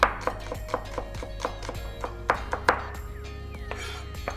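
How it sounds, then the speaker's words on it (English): A knife finely chops vegetable stems on a cutting board for a wonton sauce, a run of sharp, close taps in an uneven quick rhythm with no talking. "So give those just a little fine chop."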